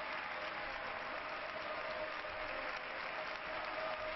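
A football crowd applauding, a dense and even wash of clapping that holds steady throughout, heard at a distance with no clear voices.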